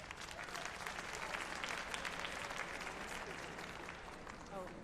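Applause from an assembly crowd after a vote result is announced, a dense, sustained clapping that fills the room for several seconds with voices faintly underneath.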